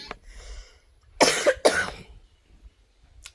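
Two harsh, close coughs in quick succession, preceded by a faint throat noise, with quiet in between.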